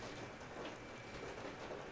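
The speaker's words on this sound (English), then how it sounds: "that sound is rain hitting my window" Rain patters against a window as a steady, dense, even hiss of drops with no distinct pauses, moderately faint and with no talking.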